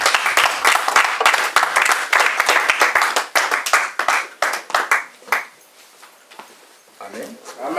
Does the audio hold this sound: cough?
no